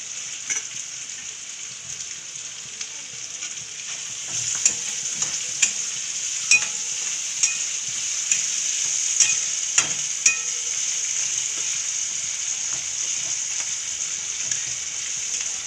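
Green chillies stir-fried in oil for a capsicum and peanut dish, a steady bright sizzle running throughout with a scatter of light spatula taps and ticks in the middle stretch, close and without voices.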